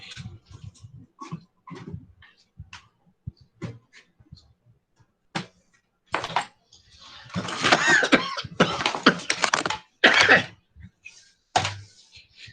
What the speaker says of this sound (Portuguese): Rapaz, essa tosse está demais.